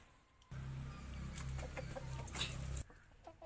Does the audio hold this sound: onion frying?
no